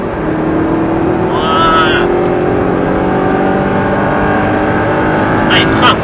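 A rally car engine drones steadily at a stage in Le Luc, holding a sustained tone with a brief higher whine midway as the car brakes, while an instructor's voice speaks briefly over it.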